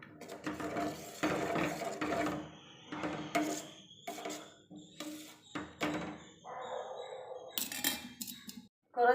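A spoon stirs green gram payasam with melted jaggery in a pot, producing intermittent scraping and clinking strokes in irregular bursts with short pauses between them, fairly close and moderate in level.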